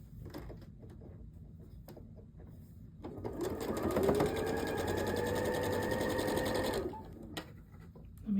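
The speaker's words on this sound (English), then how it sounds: "We are going to sew 1/4 inch down" A Janome sewing machine stitches a quarter-inch seam on quilt block units, running in one steady, continuous whir for about four seconds after a quieter stretch, then stopping.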